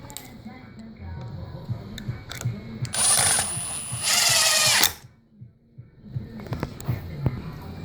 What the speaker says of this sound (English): Then we're going to put our screws in this hinge.